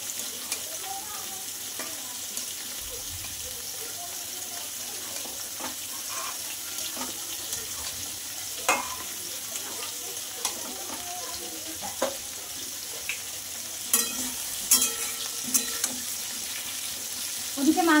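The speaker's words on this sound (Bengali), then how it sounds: "মাংসটা তো আমার কষানো হচ্ছে" Marinated meat seasoned with salt and turmeric sizzles and is stirred in a pan in a home kitchen, a steady frying hiss with occasional clinks and scrapes that grow busier near the end.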